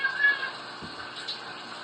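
A cat gives a short, faint meow against a quiet background.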